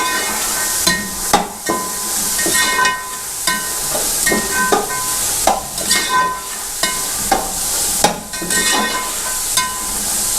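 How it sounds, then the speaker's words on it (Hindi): Peas fry in a spiced masala for a matar rice dish, a hissing sizzle broken by repeated scraping stirs and clanks of a spoon against the pot, fairly close and with no talking. "मटर को हमने 5 मिनट तक इस मसाले के अंदर अच्छी तरीके से भून लिया है"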